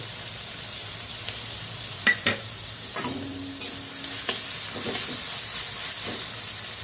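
Chopped garlic and green chili sizzle in hot oil in a pan, a steady close hiss with a few stirring scrapes and clinks of the spoon; no speech.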